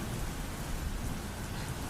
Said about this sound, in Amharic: ይሄ ዝናብ ኤሌክትሪኩን ሊያቋርጠው እንዳይሆን ብቻ ብላ አሰበች ሲስተር ሶሎሜ።